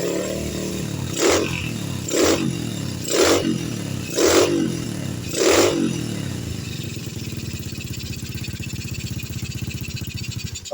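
A motorcycle engine fitted with a Jupiter MX CDI is blipped five times in a row at close range, each sharp rev rising and falling, before settling into a steady idle.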